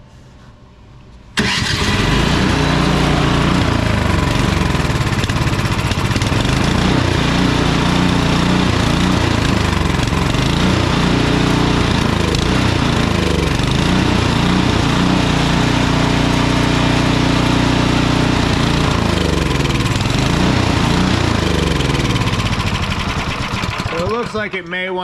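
A Husqvarna ST 230P snowblower engine fires up and runs loud and steady close by for over twenty seconds with a slight surge, and someone talks over it.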